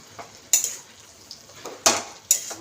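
A metal spoon clinks against a pan while methi saag and potato chorchori is turned over, a few sharp scraping taps spaced irregularly over a faint, quiet background.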